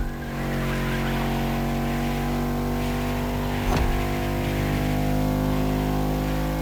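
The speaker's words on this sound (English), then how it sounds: "These cars are both able to reach insane speeds" Electric race cars in the racing game The Crew Motorfest speed past with a loud, steady high whine, a brief swelling pass with tire noise in the middle, then continue at constant speed.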